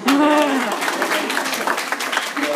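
Applause from an audience at Lanier High School for a student performer after a duet, brief and fairly loud, with a voice speaking over the clapping.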